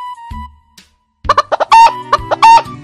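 A rooster crows loudly and close by, a few short rising calls followed by two long drawn-out crows, after a brief quiet start.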